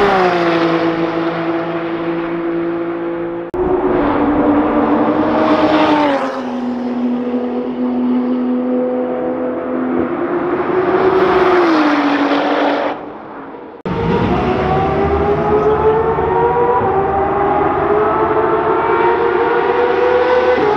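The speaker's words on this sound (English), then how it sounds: "This is where you hear some amazing cars do their thing track wise." GT3 and other time attack race cars lap the Circuit of the Americas track, engines screaming loudly through rising and falling revs, with sharp cuts between passes and close, sustained high-pitched exhaust howls.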